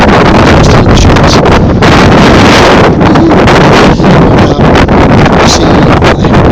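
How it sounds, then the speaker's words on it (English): Strong gusting wind on a misty mountain trail buffets the microphone with a loud, continuous roar that swells and dips, with no voices heard. "it's quite windy and very misty, and it's blustery"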